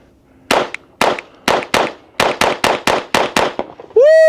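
A SIG Sauer P322 .22 pistol fires Aguila ammunition at 5 yards in about ten sharp, loud, evenly spaced shots, with a faint metallic ping after a few of them and a brief tonal sound at the end.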